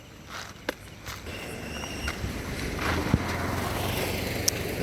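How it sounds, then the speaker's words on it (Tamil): Water falls gently at a bridge at night, making a steady, soft rushing wash that builds slightly over the stretch, with a few faint knocks and some wind-like rumble. "நைட் டைமில் இந்த தண்ணி சத்தம் வந்து நல்லாயிருக்கும் கேட்குறதுக்கு."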